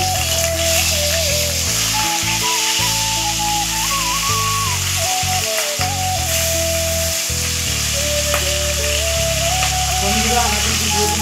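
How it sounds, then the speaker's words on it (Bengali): Pieces of rohu fish are folded into a simmering curry with raw banana and potatoes, giving a steady, loud sizzle and bubbling throughout, with a faint voice or tone drifting over it. "মাছগুলো এবার মিশিয়ে দিচ্ছি।"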